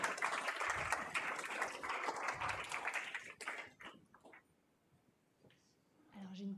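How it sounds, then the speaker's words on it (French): An audience applauds with dense clapping for about three seconds that fades out, followed by quieter room sounds and a voice starting to talk. "on peut vous applaudir"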